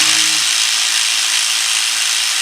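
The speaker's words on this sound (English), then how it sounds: "what we're going to do is remove this bolt right here, like a 10mm bolt" A power tool spins at high speed, likely a powered wrench running out a 10mm bolt on a Ford EcoSport engine, giving a loud, continuous whir close by; a brief low tone fades at the start.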